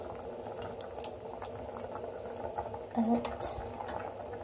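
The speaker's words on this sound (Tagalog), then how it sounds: "Pakuluan natin ng konti." Vegetable broth for wonton soup boiling in a pot, a close, steady bubbling simmer with a brief clink of utensil against the pot, and a voice speaking a word over it.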